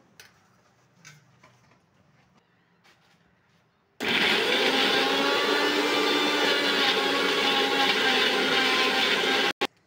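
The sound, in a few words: blender grinding raw mango into paste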